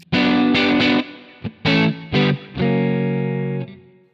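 Electric guitar played through a Two Rock Classic Reverb clean tone model in Tonex, with sustained chords and short strummed bursts ringing out alone, bright and full, with a few brief gaps between phrases.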